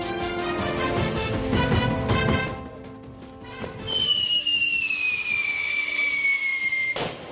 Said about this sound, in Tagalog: Sumisipol-sipol at sa duloy may malakas na pagsabog nang subukan ang umano'y bagong paputok.